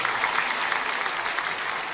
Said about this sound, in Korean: 박수해 주세요. 격려해 주세요.